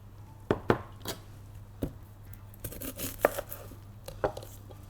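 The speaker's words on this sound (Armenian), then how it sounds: "Այստեղ ունենք 2 հատ սոխ, պետքա կտրատենք" Onions are chopped with a knife on a board: a quiet, irregular series of sharp knife strikes and soft taps, close by, with no talk.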